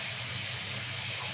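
Water is poured steadily into a bowl for pizza dough, a continuous close hiss and splash lasting the whole moment.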